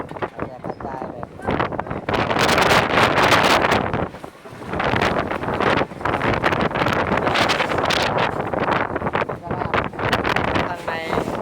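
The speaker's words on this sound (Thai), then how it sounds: "แรงลมพายุเข้าครับ" Strong typhoon wind gusts batter the microphone in a loud, continuous roar with rough buffeting, briefly dipping around the fourth second before surging again; a voice is faintly present beneath the rumble.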